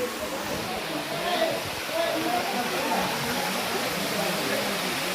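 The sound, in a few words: water flowing down from the mountain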